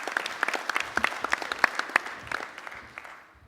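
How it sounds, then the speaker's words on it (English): Audience applause at a military communications symposium panel, a burst of dense clapping from a seated crowd that swells briefly then thins and fades out within a few seconds. "Let's give him a round of applause, please."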